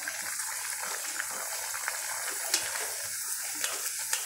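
Papaya puris fry in hot oil with a steady, soft sizzling hiss, broken by a few sharper pops and crackles near the close.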